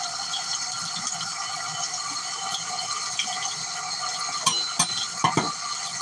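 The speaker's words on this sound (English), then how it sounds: "I'm going to rinse this bitch in nothing but hot water to clean it" Hot tap water streams steadily over a professional chef knife in a home kitchen sink, a continuous hiss with a few sharp metallic clinks of the blade near the end.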